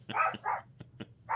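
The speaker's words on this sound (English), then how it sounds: "Oh, you know what the barking means." A dog barks in a quick burst: two or three fuller barks, then short, softer yips, and another bark at the end, moderately close with no talking.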